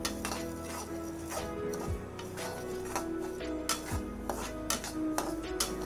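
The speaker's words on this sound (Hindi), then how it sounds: "सूजी को हम लगातार चला रहे हैं ताकि ये सटे ना नीचे कढ़ाई में।" Semolina stirred nonstop in a kadhai (wok) while it browns, a spoon repeatedly scraping and clinking against the metal in an uneven rhythm, fairly quiet and close.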